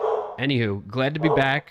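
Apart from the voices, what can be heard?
dog barking in the house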